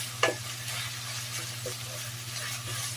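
Ground beef with onion and garlic is stirred in a hot pan while cooking afritada-style giniling: a steady sizzle with scraping spoon strokes against the pan, close and continuous, with one sharper clack near the start.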